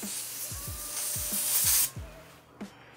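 An aerosol can sprays into a fidget spinner bearing to clean out grease, giving a steady hiss that cuts off abruptly, with soft low thumps and clicks scattered throughout.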